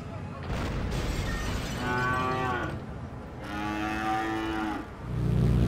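Cows in Demolition, Inc low twice in long, drawn-out moos over a constant background rumble, the second call following after a short gap. A heavier low noise comes in at the very end.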